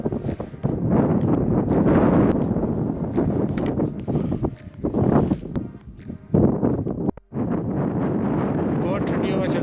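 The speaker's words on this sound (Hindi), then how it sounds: "बहुत ठंडी हवा चल रही है, बहुत।" Strong cold wind on the Everest Base Camp trek between Shomare and Lobuche, loud buffeting gusts roaring into the microphone almost without pause, dipping briefly before surging again.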